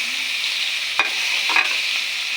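Shrimp sizzling in a pan with garlic, onion and chili, a steady broadband hiss with two brief sharp clatters of stirring partway through; no talking.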